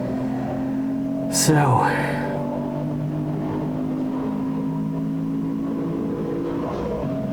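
A race car engine drones from inside the cockpit at Silverstone while it laps a slower Mazda MX-5, a steady tone with a brief whooshing rise as the cars pass and a short spoken word over it.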